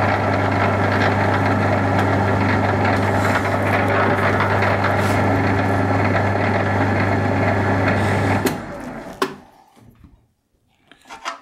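Metal lathe running steadily while a steel thumbwheel is tapped with engine oil and kerosene lubricant, a loud continuous motor hum and whine that cuts off abruptly near the end, leaving a few faint clicks.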